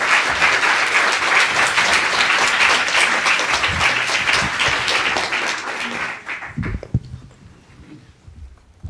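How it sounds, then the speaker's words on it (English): A conference audience in London applauds a panel coming on stage, a loud, dense burst of clapping that holds steady for several seconds and then tapers off to scattered claps. "applaud them as they come up"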